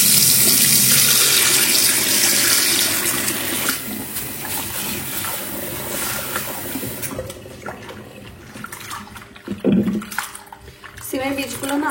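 Bean seeds are rinsed under a running kitchen tap, a strong gushing stream at first that drops to lighter splashing and handling of the seeds, with a voice at times.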